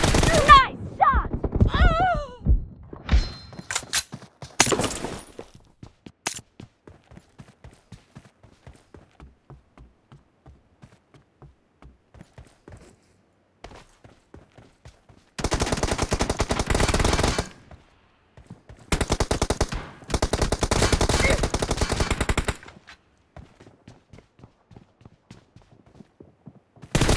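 Gunfire from a one-versus-two team deathmatch video game: scattered single shots early, then long sustained bursts of automatic fire, loud and close.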